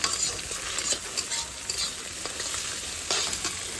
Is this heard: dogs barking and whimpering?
no